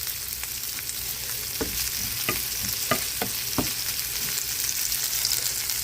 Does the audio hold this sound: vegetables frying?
yes